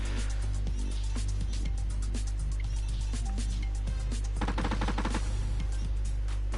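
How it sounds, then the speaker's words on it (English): Shotgun, SMG and assault rifle shots in a shooter game, a scatter of sharp distant reports over a steady low hum, with a tighter rapid burst near the end. "There's shotgun shots. An SMG shot by the sounds of it."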